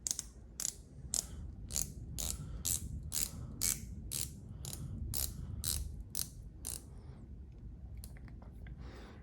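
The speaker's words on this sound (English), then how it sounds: "it does have a 120 click bezel. I'll bring it up to the mic so you could hear." Rapid ratcheting clicks from the 120-click scalloped bezel of an Omega Seamaster 2531.80 watch being turned close up, a steady run of crisp, evenly spaced ticks that slows and thins out toward the end.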